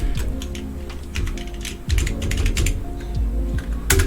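Computer keyboard keys pressed in a quick, irregular run of sharp clicks, close and fairly loud over a low steady hum while someone works in Adobe Animate, with no talking.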